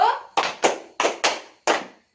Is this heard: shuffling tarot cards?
no